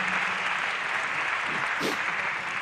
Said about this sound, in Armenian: Եկեք ծափարությունը շնորհակալություն հայտնենք